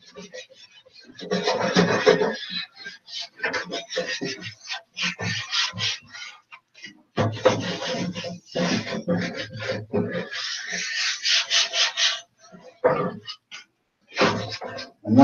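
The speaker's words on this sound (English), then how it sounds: "now I want to wipe off that excess dust" Wiping excess sanding dust off a sanded plastic part before priming: short bursts of soft rubbing and scraping strokes, close and fairly quiet, with pauses between them.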